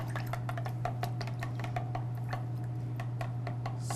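A spoon stirs a Bloody Mary cocktail in a glass, giving steady, rapid ticking clinks throughout under a constant low hum.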